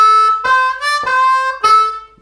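A blues harmonica plays a short lick, a few bright, bending note blasts in quick rhythm, close and loud, alone without speech.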